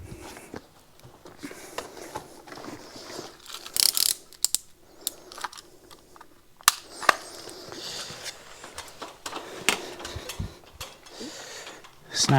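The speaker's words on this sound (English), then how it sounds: "snapped a fresh blade." A fresh blade snapped off a utility knife during wallpaper and vinyl installation: small sharp clicks and ratcheting mechanical ticks, close and fairly quiet, scattered through the stretch along with handling noise.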